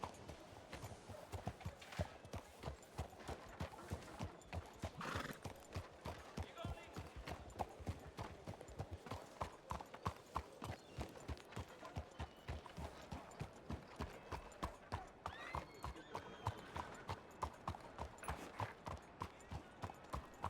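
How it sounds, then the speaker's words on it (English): Horse hooves clip-clopping in a steady rhythmic gait in the Red Dead WildRP role-play game, continuous and fairly close, with talk and faint other sounds over it. "I'm pretty sure that's Mary Pose's horse right there."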